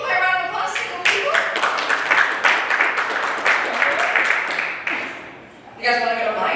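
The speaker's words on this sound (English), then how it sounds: "By round of applause, single people?" A comedy show audience claps and cheers for single people, the applause swelling loud and close for about five seconds, dipping briefly, then rising again with chatter and whoops mixed in.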